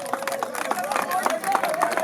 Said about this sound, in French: On applaudit d'abord très fort pour Tajibé.